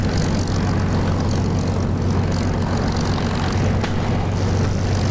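A Spitfire propeller engine at takeoff in the DCS flight simulator, a steady, loud, droning roar with a deep low hum and a broad rushing wash above it, continuous and unbroken throughout.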